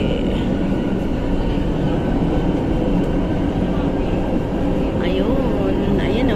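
Continuous low rumble and rolling hum of an elevated MRT metro train in motion in rainy weather, heard from inside, steady throughout with faint squeals near the end.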